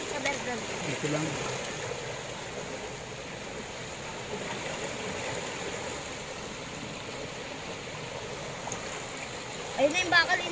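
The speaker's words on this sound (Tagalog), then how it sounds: "tingnan natin yung tubig sa ilog" Floodwater of a swollen river in Las Piñas City flows steadily beneath a bridge, a continuous broadband rushing wash that stays even throughout, with a few louder splashy bursts near the end.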